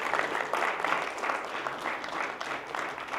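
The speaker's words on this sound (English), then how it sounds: "Big round of applause, please." An audience at a sustainability conference claps steadily together, a dense even patter of many hands filling the whole clip without pause.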